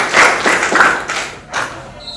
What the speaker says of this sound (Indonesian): Tepuk tangan Yudit.